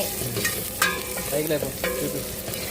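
Food stir-frying in a pan, with a steady sizzle broken by several sharp spatula scrapes and clanks against the metal, close and fairly loud, with no voices.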